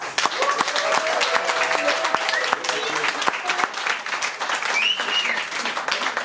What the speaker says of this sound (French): Je vous demande un tonnerre d'applaudissements, s'il vous plaît